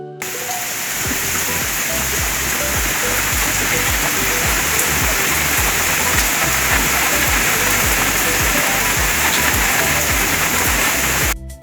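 Heavy storm rain pours down steadily and loudly, a dense, continuous roar of drops hitting surfaces with no pauses, close and enveloping throughout, with no one talking.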